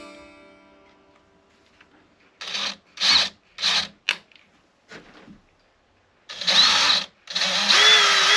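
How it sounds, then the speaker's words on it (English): A power drill bores bridge pin holes into the bridge of a handmade parlor guitar in several short, loud bursts separated by pauses, the last two runs longer and close by. "The trick when drilling these pins is to keep this as vertical"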